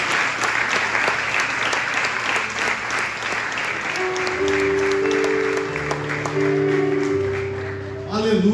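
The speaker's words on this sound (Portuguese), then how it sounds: "Dê uma salva de palmas para o Senhor," A church congregation at a Baptist church anniversary service breaks into loud, dense applause, with voices rising over it and sustained musical tones entering partway through as the clapping carries on.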